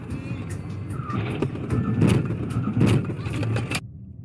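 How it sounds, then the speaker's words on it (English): Multi-vehicle pileup in fog near the Tanzhuang service area, seen from a dashcam: rumbling car noise with a run of sharp impact bursts and scraping across the middle, loud and close, then a sudden cut to quiet. "involved vehicles colliding one after another in low visibility conditions"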